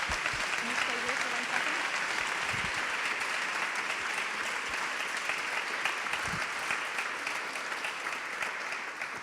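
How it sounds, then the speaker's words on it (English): An audience at a live evening cultural event at La Bellone claps steadily, with sustained even applause filling the room at moderate distance, no voices standing out. "Can you all give me a big round of applause for our lovely guests?"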